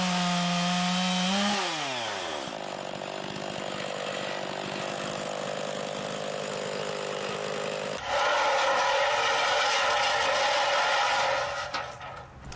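Chainsaw fitted with an Alaskan mill ripping a wood slab: loud, close engine roar that dips and revs in pitch early, then runs steadily through the cut and briefly swells before easing off at the end.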